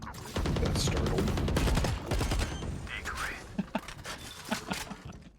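Gunfire in Valorant, with a loud, sustained burst of rapid shots followed by scattered single shots and game effects, mixed with other in-game sounds.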